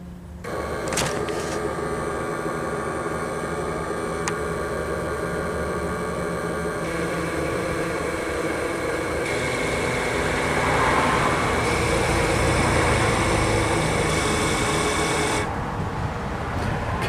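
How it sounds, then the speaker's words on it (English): A GM truck's ABS brake pump, filled with pressurized brake fluid, runs steadily with a continuous electric whir and hum for about fifteen seconds before cutting off. "Okay, so that pump works,"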